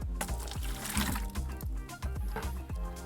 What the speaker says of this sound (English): So I'm gonna pour that in here.